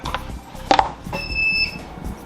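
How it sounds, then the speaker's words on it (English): An APC Pro 1000 UPS battery backup, just unplugged, gives a single steady electronic beep at close range, with a few faint handling clicks around it. "And there's that one beep."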